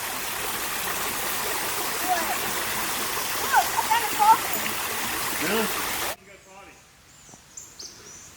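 Creek water at Uwharrie babbles steadily up close while children play and splash in it. Brief birdlike chirps and voices come through, and the water noise cuts off abruptly near the end, leaving quieter scattered sounds.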